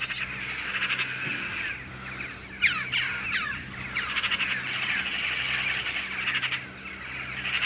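Corvids squawk inside a cattle house, with repeated harsh calls overlapping in bursts. Some are close and loud, others farther off, all over a steady low background hum.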